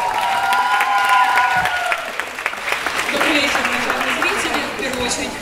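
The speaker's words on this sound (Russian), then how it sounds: "Винокурова Анастасия, ваши аплодисменты" Audience applause at an open-air Pro-Am dance event in Kyiv, a steady crowd clapping that fills the clip, with voices mixed in over it.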